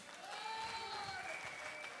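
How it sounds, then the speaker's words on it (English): Applause from an audience at a live kathak dance, ghazal and Sufi music event, a steady clatter of clapping with a few thin tonal whistles or cheers above it, sustained and fairly distant. "can I hear a big round of applause?"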